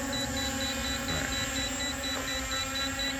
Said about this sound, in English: So it's beeping like it senses something.